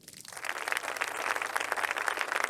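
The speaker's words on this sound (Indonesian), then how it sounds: "Mari kita sambut dengan tepuk tangan" An audience breaks into sustained applause to welcome a speaker at an antique appraisal gathering, the clapping swelling quickly and holding steady and dense throughout, with no voices over it.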